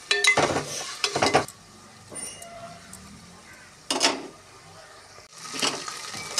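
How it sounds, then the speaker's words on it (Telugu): Mint and coriander frying for chicken biryani, with bursts of a spoon scraping and clinking against the pot between quieter stretches of soft sizzling, close and fairly quiet. "పుదీనా కొత్తిమీర కూడా మెత్తగా వేయించబడింది."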